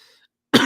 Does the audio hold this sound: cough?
yes